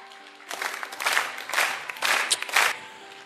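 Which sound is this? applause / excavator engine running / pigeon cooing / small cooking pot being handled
applause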